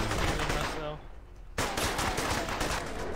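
Gunfire in the space game 2126 Starforge: dense, loud bursts of rapid shots fill the clip, dropping out briefly near the middle before the barrage resumes hard and continuous.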